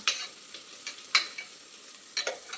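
Onions sautéing in a pan for Coimbatore-style rice and dal, heard as a soft sizzle broken by a few sharp spatula scrapes and stirs, close and fairly quiet with no voices.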